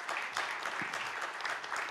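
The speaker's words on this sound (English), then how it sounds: "Let's have a big round of applause for all our speakers." An audience at a Mumbai construction panel discussion claps for the speakers, a dense, steady round of applause that holds through the whole moment.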